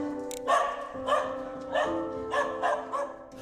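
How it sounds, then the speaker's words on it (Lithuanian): A fox terrier barks at a front door, five or six sharp, fairly close barks spaced irregularly over a few seconds, with no talking. "Prie durų mus pasitiko ir tik gerai apuostęs į vidų leido užeiti foksterjerų veislės šuo Teris."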